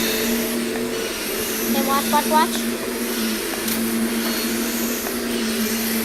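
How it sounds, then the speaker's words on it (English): A vacuum cleaner drones steadily in the background throughout, a continuous mechanical whine running under a person talking nearby. "So sorry about the background of the vacuum."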